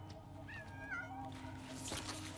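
A cat meows in a video game, a short series of soft, rising mews over a low ambient hum, fairly faint and ending in a brief rustle.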